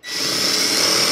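A power drill with a fine bit bores a hole during an F150 modification, starting abruptly and settling into a loud, continuous high-pitched whine for about a second.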